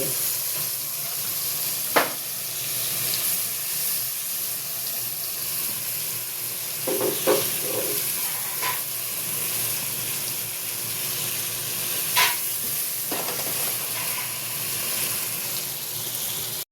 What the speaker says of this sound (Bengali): মশলা কষছে।